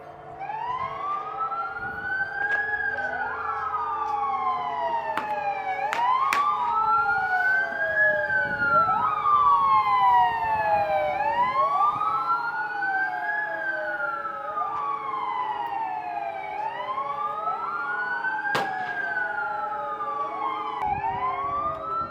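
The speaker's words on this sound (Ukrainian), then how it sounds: "Рівно о 17-й годині вмикаються сирени." Several air raid sirens wail together across Warsaw at 17:00 in the Warsaw Uprising commemoration, rising and falling in slow overlapping cycles, loud and sustained across a wide area, with occasional sharp clicks.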